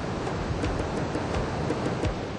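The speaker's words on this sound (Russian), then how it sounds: "вот этот такой типичный небольшой нильский водопадик" A small waterfall on the upper Nile, its streams spilling downward in a steady broad rushing roar, continuous and fairly near with no speech.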